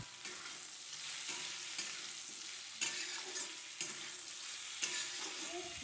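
Bottle gourd stems and chopped tomatoes stirred and frying in a pan, a continuous soft sizzle broken by repeated spatula scrapes and taps against the pan at irregular intervals.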